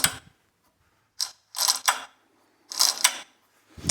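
Briggs and Stratton recoil starter mechanism turned by hand, giving several short bursts of ratcheting clicks and whirring in two groups separated by quiet gaps, close and fairly loud.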